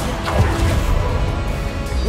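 A spell cast in the Hogwarts Legacy video game gives a loud, brief magical crash and whoosh against a busy game soundscape, with no talking.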